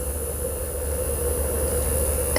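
An electric makeup brush cleaner spins steadily, giving a constant airplane-like whir with a sustained mid-pitched hum and hiss, close and unbroken throughout.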